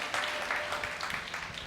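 A church congregation clapping hands together, a dense, steady patter of many palms at moderate distance filling the short stretch without pause.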